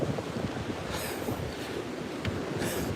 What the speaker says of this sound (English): stay away from this wind.